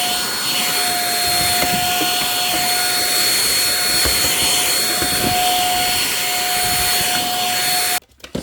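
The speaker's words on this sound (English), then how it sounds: "The vacuum is nice so that it can get under there really easily." Lightweight handheld stick vacuum cleaner running continuously, a loud, close, steady whine with a high tonal motor hum that cuts off abruptly near the end.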